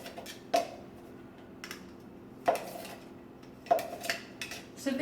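A spatula scrapes and knocks against a bowl while coarsely ground keto nut mix is cleared out, giving three or four distinct clinks spaced a couple of seconds apart with soft scraping in between, close and fairly quiet.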